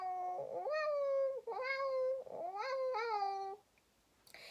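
A human voice imitates a cat's chortle, giving four short, close, tonal meow-like rising and warbling calls in a row, followed by quiet.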